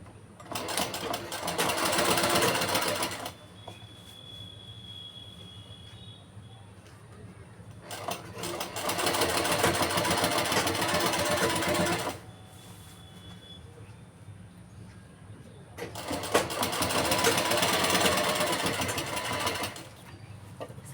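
An electric sewing machine stitches along the top of a shirt collar in three long, loud runs, with quieter pauses between them.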